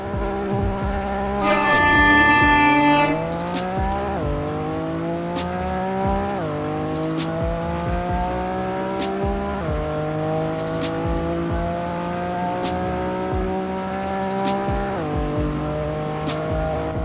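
A stock Lancia Stratos launches down a drag strip in a video game, its engine loud and close, revving up in repeated rising sweeps with a brief tire squeal at the start as it climbs through the manual gears.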